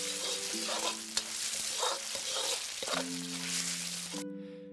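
Diced chicken is stir-fried in a hot wok with oil, Sichuan peppercorns and dried chilies, a loud steady sizzle broken by repeated scraping tosses, ending abruptly.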